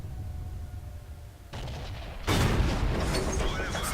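Tank cannon fire in the video game World of Tanks: a muffled low rumble gives way to a sudden sharp blast that jumps the level, followed by a sustained, noisy boom and rattling aftermath.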